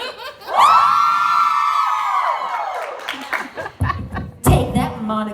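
A group of people at a mock party scream together in one long, loud sustained shriek, breaking off into laughter, whoops and scattered clapping.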